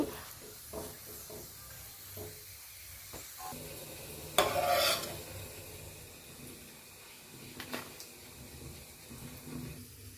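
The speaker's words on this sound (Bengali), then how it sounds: "একে একে সবগুলো পরোটা ভেজে নেব" Parottas frying one after another in a pan give a steady low sizzle with stirring and scraping, then a louder hissing burst about midway that fades back to a quieter fry.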